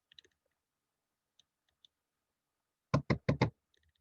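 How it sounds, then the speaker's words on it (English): Four quick, crisp clicks in a tight burst from a computer mouse clicking delete while designing slides in Canva, preceded by a few faint scattered ticks in an otherwise quiet room. "I click on delete"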